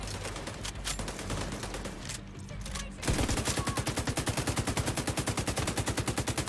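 Pestilence machine gun firing in sustained rapid bursts after a brief lead-in of mixed game noise, each shot a sharp, evenly spaced crack forming a loud, continuous rattle.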